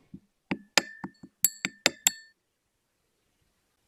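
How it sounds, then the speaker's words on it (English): Glass clinking as sodium-potassium metal is stirred with ethanol in a glass container: about ten sharp, close taps and chinks in an uneven rhythm, then silence and one final faint clink. "I then stirred it around and occasionally added more ethanol"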